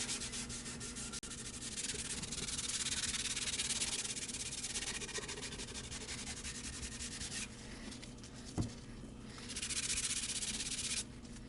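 A rag rubs stain into a 5A quilted maple guitar top in a continuous, close, scratchy rubbing sound. It eases briefly near the end and then resumes.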